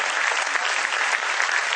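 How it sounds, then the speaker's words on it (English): A school audience at a junior wing annual function gives a steady, dense round of applause for the students, many hands clapping together at an even level with no voices over it. "Please, a big round of applause for them."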